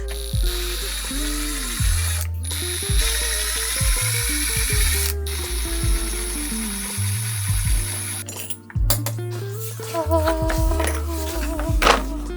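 A power tool whirs in a van while chunky bench hinges are removed, with repeated bursts of motor whine that rise and fall, brief stops between runs and a busier stretch of rattling near the end.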